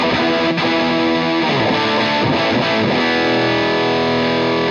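An electric guitar played through a small mini amp rings out with distorted tone, sustained chords and a few picked notes, loud and close, with no talking.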